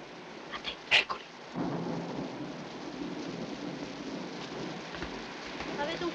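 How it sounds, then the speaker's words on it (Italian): Heavy rain falls in a steady wash in a period film scene, preceded by a few brief sharp knocks and a voice, with a low rumble of thunder under the downpour. "Venga, che piove forte."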